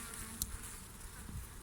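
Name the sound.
honeybees buzzing at a beehive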